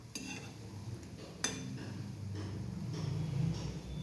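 Spoonfuls of mung dal batter fritters dropped into hot oil in a pan, with a couple of sharp spoon clinks and a steady close sizzle that swells slightly as the batter fries.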